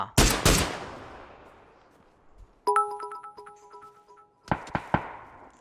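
Gunfire in the shooter PUBG begins with a loud close burst of shots that fades out. Ringing electronic tones follow, then another quick volley of sharp shots near the end, with no talking.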